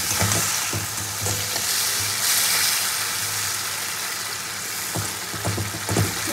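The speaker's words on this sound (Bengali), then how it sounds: "মাছ দিয়ে মশলাটা একসাথে কষাবো।" Fried fish sautéed with spices in an oily pan gives a steady loud sizzle, broken by repeated scraping stirs of a spatula throughout.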